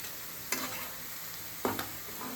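Onions browning in hot oil for a prawn dry roast, a soft steady sizzle with two sharp scrapes of a spoon stirring the pan, fairly quiet and close.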